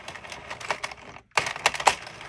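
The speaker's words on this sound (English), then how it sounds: "That clicking, that was for the row counter" Rapid mechanical clicking of the row counter on a Sentro 40 knitting machine, a close, dry run of ticks in two bursts separated by a brief silence.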